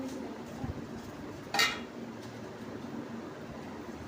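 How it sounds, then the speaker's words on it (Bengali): Meat with chilli powder and spices is stirred in a pot for biryani, a soft scraping under a low background hum, with one sharp metallic clink of the spoon against the pot partway through. "মাংসটা নাড়া হচ্ছে বন্ধুরা, মশলা গুঁড়ো লঙ্কা দিয়ে দেওয়া হলো।"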